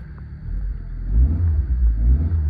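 A 1995 Volkswagen Golf MK3 engine idles with a deep, steady rumble close by, swelling slightly as it revs a little, with no voices.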